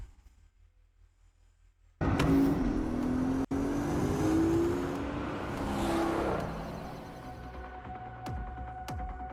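A Porsche engine in the video game Resident Evil Requiem starts abruptly after a quiet moment, then runs as a loud, throbbing hum with a rising whine that later eases off.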